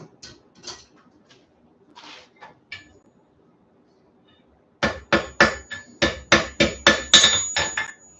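A power hammer forges 3/4 inch steel bar into a wheat twist, a fast run of loud, evenly spaced metallic blows following several lighter, scattered taps.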